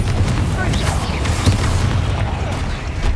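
A Confringo fire spell blasts in Hogwarts Legacy as a loud, sustained boom with a rumbling low end that runs through the whole stretch, heavy and close.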